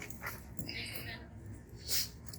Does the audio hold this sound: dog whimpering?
yes